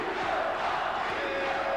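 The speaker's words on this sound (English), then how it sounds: "Patricio, the name they have given him here in Italy, is being chanted by this enthusiastic crowd in Livorno" An enthusiastic boxing crowd in an arena in Livorno, Italy chants a fighter's nickname in a steady, dense roar that continues throughout.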